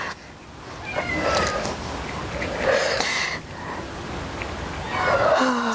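A pet cat meows repeatedly from nearby, several drawn-out plaintive calls spaced over a few seconds against a faint hiss of room noise.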